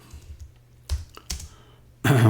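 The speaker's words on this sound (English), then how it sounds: "All I'm doing is hitting the tab key instead of typing the whole thing." Computer keyboard in a Linux Mint terminal, typed with a few separate soft keystrokes, then a louder burst of clatter at the end, nearby and with no talking.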